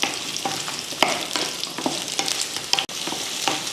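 Sliced onions and garlic cloves fry loudly in hot oil, a dense crackling sizzle with repeated scraping strokes of a spatula stirring them around the pan.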